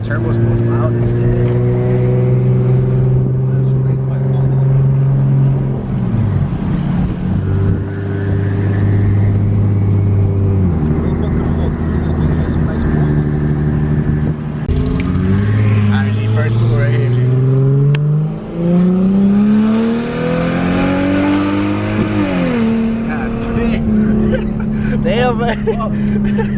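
Turbocharged Lexus IS300 engine fitted with a Precision 5976 turbo, revving hard up and down in loud sustained pulls with rising and falling pitch, close by, with people talking over it.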